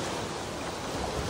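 Sea waves wash steadily at Mandvi beach in Ratnagiri, a continuous broad rushing surf with wind noise on the microphone and no voices.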